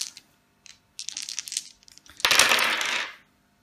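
Dice clatter during a Time of Soccer board game: a few short rattling clicks, then a louder burst as the dice tumble across the table, close and without voices.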